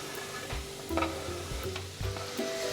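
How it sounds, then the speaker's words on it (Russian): Chopped carrots and onions sauté in vegetable oil in a hot soup pot, with a steady sizzle broken by a few scraping stir strokes, close and moderately quiet, with no talk. "И лишь слегка пару минут пассерую эти овощи до состояния, когда они немножко обмякнут"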